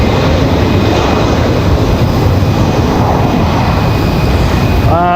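Delta Air Lines Boeing 717 jet departing Raleigh-Durham International Airport, a loud steady broadband engine roar that fills the whole stretch without letup, heard alone.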